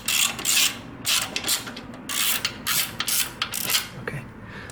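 A bolt is worked loose from the exhaust bracket on a Harley-Davidson V-Rod, giving close, bursty ratcheting clicks in quick irregular runs with brief pauses between strokes.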